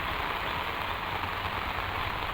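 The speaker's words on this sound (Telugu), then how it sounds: "భారీగా పడుతుంది వర్షం ఫ్రెండ్స్." Heavy rain pours onto a terrace house on Kotha Road in Shantinagar, a dense, unbroken roar of drops drumming steadily and loudly throughout, with no voices.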